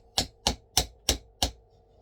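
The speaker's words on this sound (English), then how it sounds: "If they're not, give it a wee tap with a hammer." Five even hammer taps knock a wooden DN4 frame rail into place, crisp sharp knocks at a steady rhythm about a third of a second apart, close by in a quiet room.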